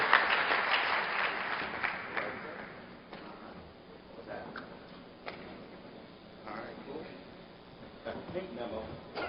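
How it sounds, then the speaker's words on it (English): Applause from an audience at a talk, strong clapping at the start that thins out and tapers, with voices and scattered claps continuing beneath the fading crowd noise. "Let's give a round of applause for Roland Martin"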